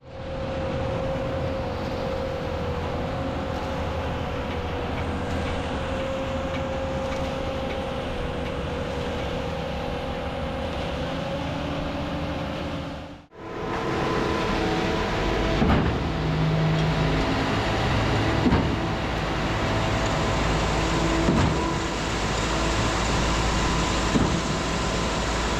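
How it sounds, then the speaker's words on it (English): A concrete pump truck runs steadily while pumping concrete into a 180-yard house slab, its engine drone loud and continuous with a brief dip midway before resuming alongside clanks and job-site noise. "we'll go watch as they start dumping some concrete into the hopper and get this concrete pumping"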